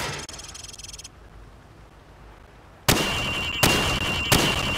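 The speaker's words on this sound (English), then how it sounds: "Now, shoot at the targets while firing from the hip." Hip-fired gunfire at training targets in Call of Duty 4, a rapid burst of close, loud shots, then a quiet pause, then three heavy, sharp blasts with ringing tails.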